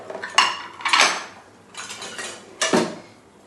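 A white ceramic plate, white bowl and spoon handled in a home kitchen, giving four separate bursts of clinking and clattering tableware, close and fairly loud, with quiet gaps between them.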